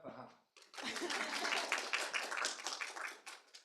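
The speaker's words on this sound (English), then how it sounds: "Clap for Harper." A small audience at a history careers showcase claps for the next speaker, a burst of close, dense handclaps lasting a few seconds after a brief spoken line.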